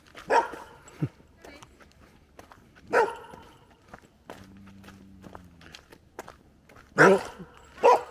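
A nervous dog in Havering park gives several sharp, loud barks spaced a few seconds apart, close by, with quieter footsteps and small shuffling sounds between them.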